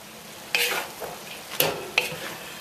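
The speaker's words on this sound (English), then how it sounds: "add it and keep stirring it in" Cooked noodles are stirred into a spicy beef stir-fry in a pot, with a soft sizzle under three distinct scraping stirs spaced about half a second apart.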